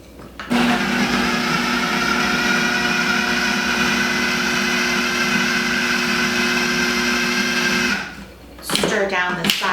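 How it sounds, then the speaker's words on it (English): A food processor whirs steadily for about seven seconds as it chops a quinoa and beet veggie burger mix, a loud, even motor drone that cuts off abruptly and gives way to a brief scraping clatter. "I've had this food processor sitting in my pantry for about 6 months"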